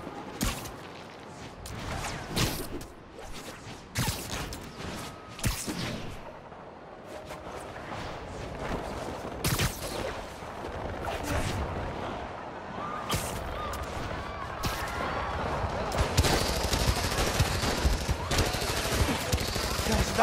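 Sustained gunfire in the video game Spider-Man Miles Morales, dense rapid shots and bursts over a continuous battle din for about twenty seconds, loud and close, with some voices in the mix.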